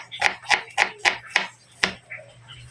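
An onion for paksiw is chopped on a board, with six sharp, close knife strikes in a fairly even rhythm followed by a few softer taps.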